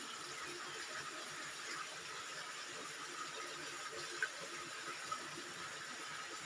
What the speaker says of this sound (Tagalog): May tubig na tumutulo sa ilalim.